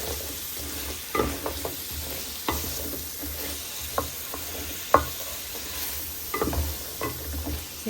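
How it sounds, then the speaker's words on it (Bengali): Potatoes and flat beans frying in a pan for a rui fish curry with tomato, sizzling steadily while a spatula stirs and scrapes in repeated strokes, close up with no voices. "এখন সিমের আলুটা দিয়ে দেবো।"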